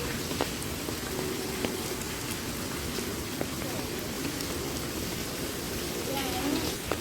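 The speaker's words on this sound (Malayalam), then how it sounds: "ഇപ്പോൾ കുറച്ചേ മഴയുള്ളൂ." Light rain falls steadily on a rainy vacation day, a soft even patter with scattered drops across the whole stretch, fairly faint and without talk.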